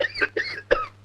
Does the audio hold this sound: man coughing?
yes